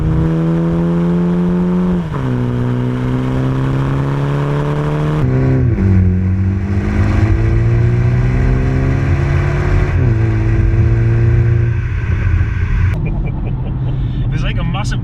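A BMW F40 M135 fitted with a Cobra Sport stainless exhaust revs loudly and steadily nearby, its engine note stepping up and down through several surges, with voices talking over it.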